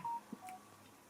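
A mobile phone gives a quick, faint notification of two or three short electronic beeps in under a second, heard alone in a quiet room.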